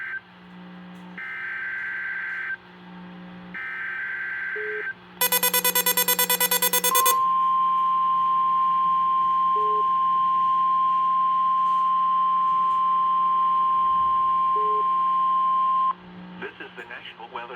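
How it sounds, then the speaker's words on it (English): Emergency Alert System test tones from a National Weather Service office in State College, Pennsylvania, carried over a Pittsburgh AM station: bursty data chirps, a loud dual-tone attention signal, then a long steady tone before quieter audio returns. "The tones you just heard were a test of this specific area message encoding into an alert systems."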